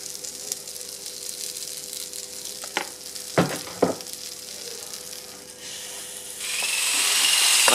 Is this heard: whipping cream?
yes